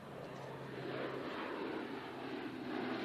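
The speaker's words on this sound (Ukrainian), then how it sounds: "У небо здіймається американський тактичний винищувач F-15, за ним український Су-27" An American F-15 tactical fighter jet roars as it takes off, its engines a steady distant broadband rush with a faint low hum, heard alone.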